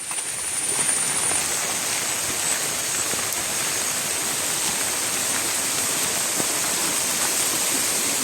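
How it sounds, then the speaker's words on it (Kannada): A small stream flowing beside a road between a plantation and a slope: a steady, dense rush of water that stays constant and fairly close throughout, with no voices. "ಸ್ವಲ್ಪ ಮುಂದೆ ಸಣ್ಣ ಜರಿ ಹರಿತಾ ಇದೆ ತೋರಿಸ್ತೀನಿ"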